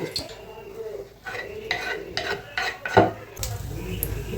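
Chopped tomatoes go into hot oil in a pot for a home-cooked biryani, with a faint sizzle and repeated scraping and clinking of a spoon stirring against the metal pan. The strokes come in uneven bursts, followed by a louder, steadier hiss.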